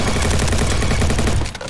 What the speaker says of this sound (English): I like that headshot noise